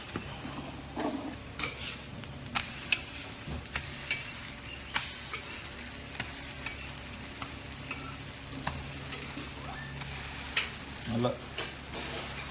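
Appam batter sizzles steadily in a hot pan while a utensil taps and scrapes against it now and then, a soft continuous frying hiss broken by small clicks and clinks.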